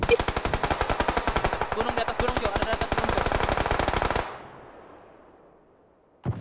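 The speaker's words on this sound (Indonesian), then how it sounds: "Ada nembak jauh lah, ganggu." Rapid automatic gunfire in a video game, a long fast burst of evenly spaced shots that stops abruptly, leaving a fading tail, then a single shot at the end.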